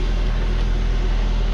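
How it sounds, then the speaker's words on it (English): Saab 9-5 car engine idling steadily after a first start following a rebuild, a continuous low exhaust rumble at close range with no talk. "But listen to the exhaust."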